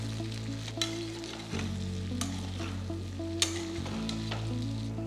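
Plantain pieces stir-fry over a low flame, a soft steady sizzle under a low hum, with a few sharp utensil scrapes and clinks against the pan, no talk.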